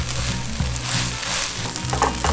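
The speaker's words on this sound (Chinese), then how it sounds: "这个大豆蛋白粒跟这个 Beyond Burger 这个排煎稍微干一点" Soy protein granules and a Beyond Burger patty sizzle in a frying pan, a close, steady crackle with bursts of spattering and occasional scraping as the mixture is stirred.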